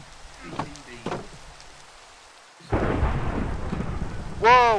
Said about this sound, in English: Whoa! Thunderstorm!